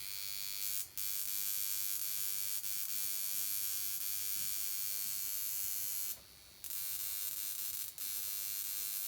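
A handheld electric spot-zapping device used on skin blemishes gives a steady, close buzz that runs almost without a break, cutting out briefly twice.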